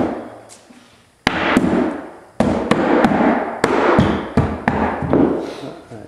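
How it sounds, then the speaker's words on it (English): A hammer knocks hardwood flooring into place during a floor installation, making a string of sharp, close, uneven thumps and cracks with short gaps between them, while a voice talks now and then. "No, Jim, use the metal of the hammer."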